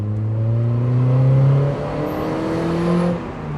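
Close, loud engine rev from a Eunos S-Special II fitted with a dummy exhaust. A droning tone holds, then rises and eases back down within a few seconds, with no talking.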